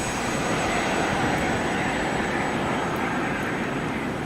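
Jet engine roar of a Boeing 737-300 approaching the runway in the X-Plane flight simulator, a steady, loud broadband rush with a faint high whine that holds evenly throughout, no talking.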